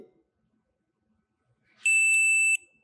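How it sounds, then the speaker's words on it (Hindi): Multimeter continuity check on an ECM circuit board component, giving a single steady electronic beep of under a second after a stretch of near silence. "ये कंपोनेंट बीप दे रहा है"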